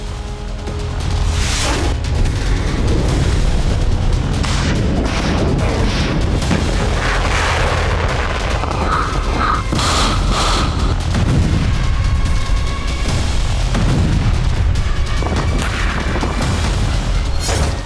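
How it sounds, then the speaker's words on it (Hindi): Russian missile strikes and heavy bombardment in Ukraine, including Zaporizhzhia, bring a dense, loud run of booming explosions and cracking blasts that overlap in quick succession with rumbling echoes, and no voices are heard. "ताबड़तोड़ अंदाज में मिसाइलें दागी"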